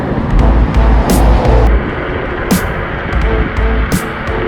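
Apollo Ghost electric scooter on the move, a steady close rumble of wind and road noise with a few sharp clicks and brief bursts of wind hiss.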